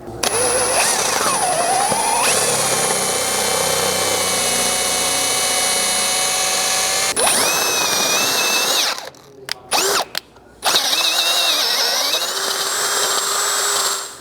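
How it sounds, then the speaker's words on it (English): A power drill bores a 9/16-inch hole in the rear bumper of a second-generation Toyota Sequoia, whining loudly and steadily with pitch shifts, then stopping and starting in short bursts before running again. "about 1/4 inch drill bit and working up to that final 9/16 hole size"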